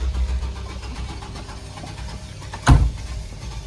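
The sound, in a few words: car engine failing to start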